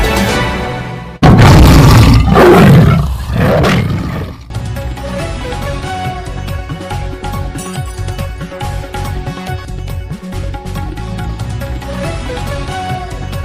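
A roar sound effect opens a Marathi news intro: a loud, rough roaring burst lasting about three seconds, followed by a steady music bed at lower level.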